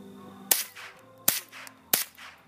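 Three sharp gunshots fired outdoors at an even, unhurried pace, each a loud crack followed by a short fading echo.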